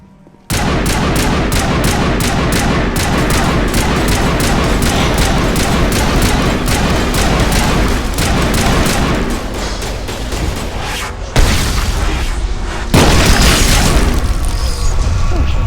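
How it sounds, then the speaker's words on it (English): Rapid, dense gunfire and grenade blasts from a Mass Effect–style shooter battle, a loud continuous fusillade of shots with heavier booming explosions near the end. "Strategic use of grenades."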